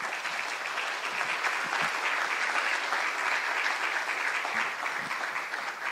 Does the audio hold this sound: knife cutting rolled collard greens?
no